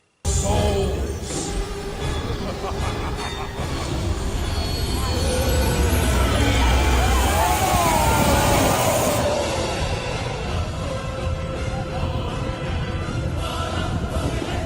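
Revenge of the Mummy theme park ride in motion, a loud continuous rumble of the ride vehicle and track with muffled effects and distant voices mixed in, ending abruptly.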